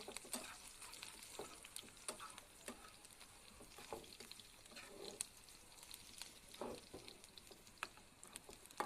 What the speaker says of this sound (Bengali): এটা ভালো করে ভেজে নিতে হবে গাইস